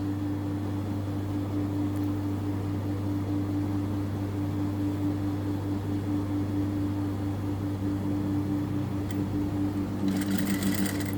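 A sewing machine stitches fabric while a chain is attached, running as a continuous steady mechanical whir with a low motor hum throughout, close and even, with a brief rattling change near the end.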